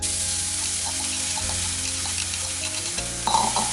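Crushed spices with fenugreek hit hot oil and fry, giving a close, soft sizzle with light crackles and a few small stirring scrapes, a brief clatter near the end.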